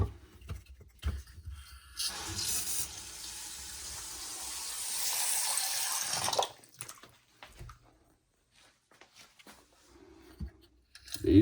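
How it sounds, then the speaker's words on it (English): Water runs from a newly installed Delta Flynn bathroom sink faucet as a steady hiss lasting several seconds, then cuts off and leaves scattered handling clatter. "Now we're going to throw the water to it and see if we have any leaks."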